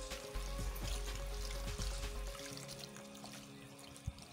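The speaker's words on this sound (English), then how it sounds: "i'm going to add water to steam it" Water is poured into a pot of seasoned meat with onion, salt and pepper while cooking Nigerian white soup, ofe nsala; a steady splashing pour runs close and continuous, then eases into a softer trickle.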